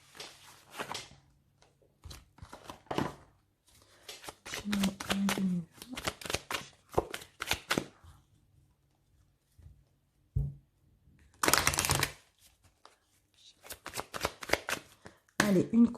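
Cards from a mirror oracle deck are shuffled in several bursts of quick riffling and flicking, close and moderately loud, separated by short pauses and a few soft taps.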